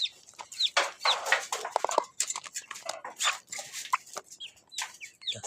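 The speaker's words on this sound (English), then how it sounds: "Some chicks here." Chickens and chicks cluck and peep in short, scattered calls at close range, with an occasional louder squawk among the irregular bursts.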